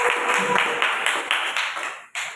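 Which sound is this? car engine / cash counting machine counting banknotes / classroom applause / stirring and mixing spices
classroom applause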